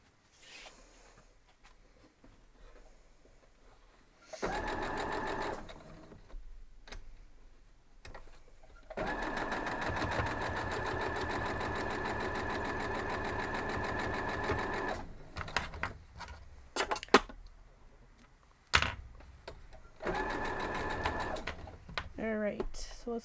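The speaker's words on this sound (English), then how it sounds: "I'm just going to hold it and I'm going to sew down that 1/4 inch also." Sewing machine stitching a quarter-inch seam on a folded-corners quilt block: a steady rapid whirring chatter that runs for several seconds at a time, stops, then restarts in shorter bursts, close and loud, with quiet pauses and faint handling noise between runs.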